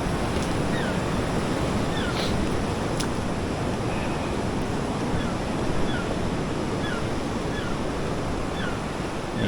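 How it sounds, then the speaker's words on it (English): Sea waves washing steadily on the rocky shore at Runswick Bay, a continuous loud roar of surf with wind buffeting the microphone and no clear pauses. "Just got to watch the odd wave."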